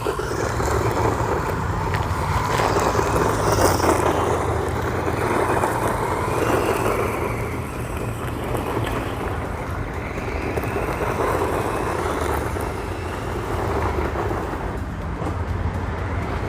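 A Hosim ZENO X05 brushed RC truck runs at full throttle, giving a steady, continuous electric whine and rumble that holds at a constant level for the whole stretch, with wind noise buffeting in the background.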